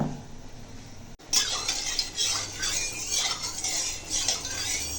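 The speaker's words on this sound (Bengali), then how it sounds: "ঝাল মশলাটা তো ভিতরে যাওয়ার ব্যাপার আছে না, এই জন্য এরকম চটকে রেডি করে নেব।" Vegetables are mashed with spices by hand, making close, continuous wet squishing and kneading sounds after a brief quiet moment at the start.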